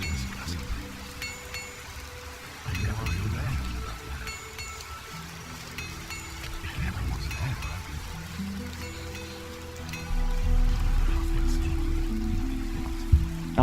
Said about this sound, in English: there's nothing I can see in this downpour